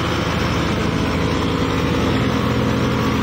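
Kubota MU 5502 50 HP tractor at about 1500 to 1600 RPM powering a new 2022 thresher on a farm: a loud, steady engine drone with continuous mechanical rumble and whirring, close and unbroken.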